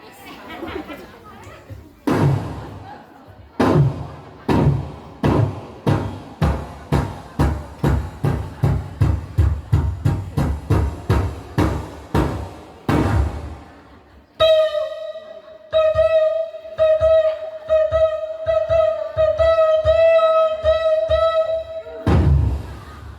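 Audience at a Sundanese religious sermon in a village imitating a bedug mosque drum with their voices, a long series of rhythmic thudding shouts that speed up, followed by a sustained sung tone and a final thump.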